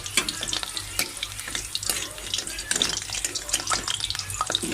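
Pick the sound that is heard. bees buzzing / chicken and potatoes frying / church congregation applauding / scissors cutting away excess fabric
chicken and potatoes frying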